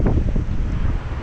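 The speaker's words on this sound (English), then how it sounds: "It's so windy here" Strong wind buffets the microphone on Bell Island, Newfoundland, a loud continuous low rumble that surges and dips without pause, with no talking.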